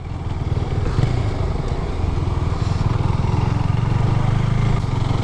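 A Husqvarna 401 Svartpilen motorcycle is being ridden, its single-cylinder engine giving a loud, continuous, even drone close up, with no gaps throughout.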